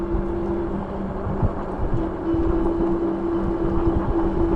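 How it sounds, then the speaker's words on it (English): Steady wind buffets the microphone on a bike ride along the Upper Tampa Bay Trail, a continuous rushing roar with a low hum underneath, close and loud with no talking. "It's a little windy."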